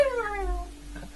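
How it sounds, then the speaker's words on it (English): A single cat meow with a falling, drawn-out tone, fairly close but not loud, over a low steady background hum. "Sounds like there's a cat"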